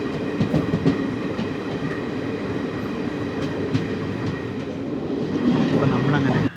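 Jan Shatabdi Express with ICF coaches pulling into Aluva station, a steady loud rumble of wheels on rails with faint rhythmic clacking and a brief rise near the end, with someone talking over it.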